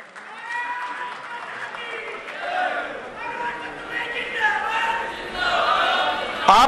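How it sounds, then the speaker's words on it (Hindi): Loud applause from a crowd welcoming a speaker at a political gathering, continuous clapping mixed with cheers and chatter, swelling toward the end. "जोरदार तालियों से स्वागत।"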